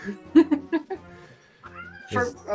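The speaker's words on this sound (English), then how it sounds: "My cats are fighting." Two pet cats fighting indoors, with a burst of sharp, fairly close meows and yowls followed by a longer rising caterwaul, while a person talks faintly in the background.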